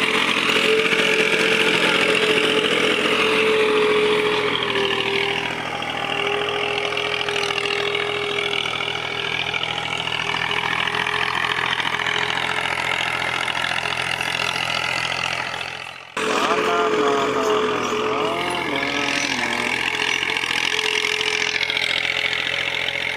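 A tractor engine runs steadily in a farm field during seed sowing, a continuous mid-pitched drone with small shifts in load and one brief dip partway through, with no talk over it.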